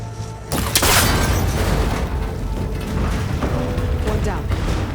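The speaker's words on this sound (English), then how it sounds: "That connector's holding the cables together. It should break if I shoot it." A shot snaps a cable connector in Horizon Forbidden West, giving a loud broadband burst near the start that rolls into sustained, rumbling mechanical clatter and grinding for several seconds.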